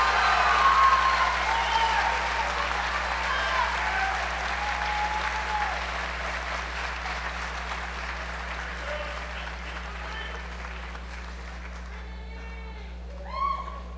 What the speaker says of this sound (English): Would you please give a round of applause to the forensics class of 2018?